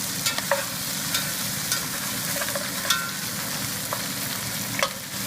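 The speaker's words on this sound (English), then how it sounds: "You don't want it to burn, but you do want it to fry." Pork ribs frying in a pan, a steady dense sizzle with intermittent scraping clicks of a utensil stirring the meat, close and continuous with no talking.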